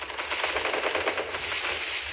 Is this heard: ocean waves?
no